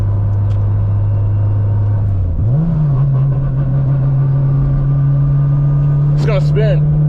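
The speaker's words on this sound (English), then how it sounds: "Oh my gosh, that turbo sounds crazy right now." A 600hp turbocharged Honda Civic engine holds a steady loud drone during a pull, dipping briefly then climbing back and sustaining, with turbo whine and sharp chirps near the end.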